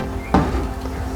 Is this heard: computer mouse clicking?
no